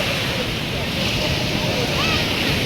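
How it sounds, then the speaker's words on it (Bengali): Rough sea waves churn in a dense, steady wash of noise, loud and near, with wind rumble and a person talking over it. "আর একটা ঢেউ আসছে বন্ধুরা"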